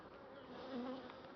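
Honey bees buzz steadily at an open hive during spring nectar flow, a dense continuous hum that swells slightly midway, close and alone without talk.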